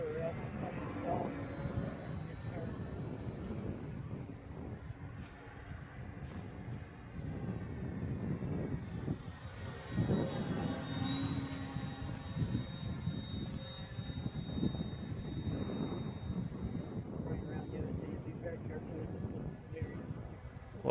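An RC model Fieseler Fi156 Storch airplane buzzes faintly in the distance, its motor drone rising and falling as it flies, while people talk over it throughout.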